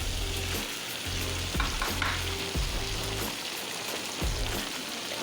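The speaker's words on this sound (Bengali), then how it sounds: "ভালো করে মশলাটা কষিয়ে নিই।" Spices frying with cabbage in a hot pan, a continuous close sizzle with repeated scraping strokes of a spoon stirring the mixture at a steady rhythm.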